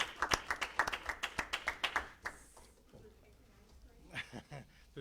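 An audience at a city council meeting breaks into brief applause, a burst of scattered hand claps for about two seconds that quickly dies away, followed by quieter room noise and people talking.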